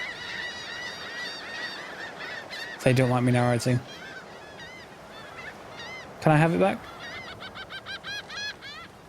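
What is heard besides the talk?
seagull ability squawks in Divinity: Original Sin 2 video game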